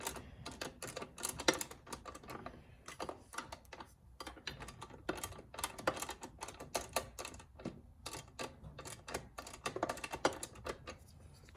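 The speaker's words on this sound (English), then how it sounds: "To save time, I'm going to use a ratcheting 13 just to snug it up a little bit." A 13 mm ratcheting wrench snugs a bolt on a Suzuki DR650 rear rack, rapid close clicking in short repeated bursts with brief pauses between strokes.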